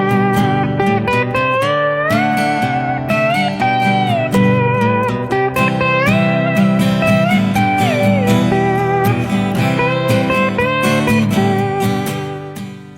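A slide guitar solo plays loud and continuous over a full band backing, with gliding pitch bends and sustained melodic lines.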